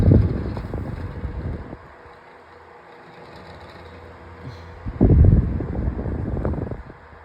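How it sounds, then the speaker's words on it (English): A Dayton 9-inch electric fan running on low with oscillation engaged gives a steady soft whir and airy hum, swelling louder in two stretches as the head sweeps toward the microphone. "Now we'll go ahead and change it back to low. And we'll engage the oscillator."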